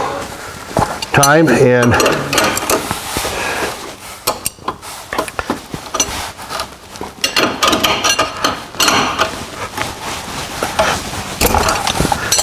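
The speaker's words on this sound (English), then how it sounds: "now I'm gonna take this other one and tighten it the final" A lock nut on a Kimpex plow mount for a UTV is tightened with loud, close metallic clanks, taps and ratcheting clinks. Someone speaks briefly between the bursts.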